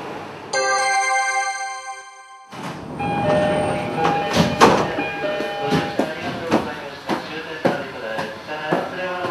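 A 15-car train with a Green Car running, steady rail rumble and clatter after a brief tonal chime at the start, with repeated clicking joints building through the clip.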